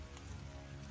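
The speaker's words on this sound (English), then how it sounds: "It's starting to pour." Heavy rain pours down outdoors at a rural homesite during a metal-detecting hunt, a steady dense hiss of drops drumming on surfaces with no voices.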